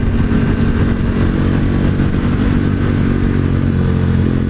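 A 2018 KTM 1290 Super Duke pulling hard in first gear, its loud, dense engine roar droning steadily and close throughout with no letup.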